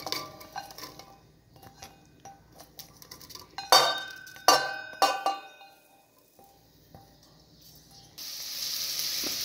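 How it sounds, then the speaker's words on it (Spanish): Pots and utensils clink and clatter on a stovetop, then butter and a little oil in a pan break into a steady sizzle near the end as onion goes in to sauté. "Ponemos la mantequilla, un poco de mantequilla en la cacerola, con un poquito de aceite para que no se nos queme la mantequilla. Y ahí vamos a sofreír la cebolla."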